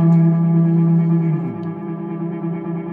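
A Nemesis delay pedal's hold function looping a guitar phrase, with heavy delay and echo repeating at a constant level, steady and close without any talking.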